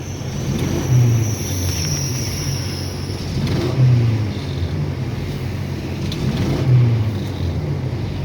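A three-cylinder car engine running close by, its revs surging roughly every three seconds and then dropping back, uneven and sputtering, with no talk.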